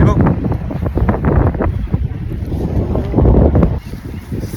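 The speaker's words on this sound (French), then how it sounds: "Il y a du vent. Il y a beaucoup de vent." Strong gusts buffet the microphone on a bridge in San Francisco, roaring in uneven bursts under a voice.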